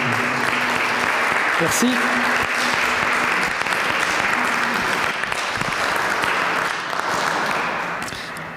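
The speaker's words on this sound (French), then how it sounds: "Je voudrais qu'on applaudisse encore une fois" Sustained audience applause after a lecture on Monsieur and Madame Lavoisier, a dense, steady round of clapping from the crowd that fades toward the end, with a brief spoken thanks and some talk underneath.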